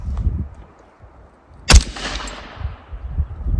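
A single sharp CMMG rifle shot fired at a line of cans, one loud close crack that rings off briefly, with quiet low rumble before and after.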